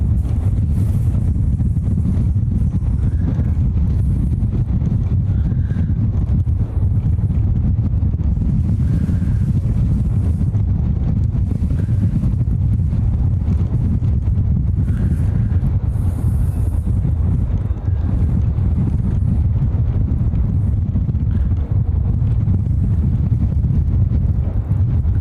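Strong wind buffets a microphone at an outdoor plane spotting spot, a loud, continuous low rumble that swells and gusts steadily throughout.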